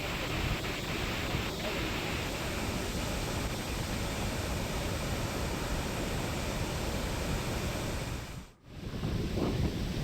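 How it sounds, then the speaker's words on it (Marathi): Continuous heavy rain falling in Pune, a broad, steady roar of water with a brief dip in level near the end before the downpour resumes. "पुण्यामध्ये रात्रीपासून संततधार पाऊस सुरू आहे"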